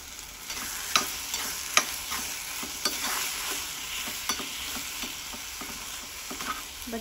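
Onion and tomato chutney cooks in a pan with a constant close hiss of sizzling, broken by sharp scraping clicks of stirring every second or so, with no talking.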